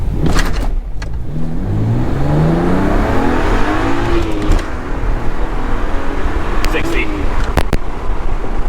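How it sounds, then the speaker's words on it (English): A heavily modified BMW 335i launches hard from 0 to 60 mph, its engine note sweeping upward through the gears in a loud, close roar, while people inside the car talk briefly. "All right, this is map 1, 0 to 60. All right, set, go."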